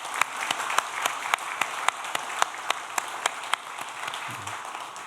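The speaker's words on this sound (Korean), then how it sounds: "우리 하나님께 영광의 박수 올리겠습니다" A church congregation applauding during a Sunday worship service, a steady wash of many hands clapping with a few sharp individual claps standing out at a regular beat, moderately loud and sustained throughout before easing slightly at the end.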